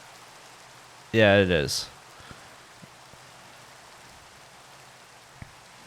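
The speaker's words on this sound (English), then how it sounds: "Just let the rain go, even through the night" Soft rain falling in the GregTech: New Horizons Minecraft modpack, a faint, steady hiss with scattered light drop ticks, briefly interrupted by a short spoken reply near the start.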